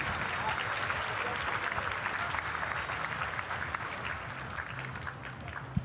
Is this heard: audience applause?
yes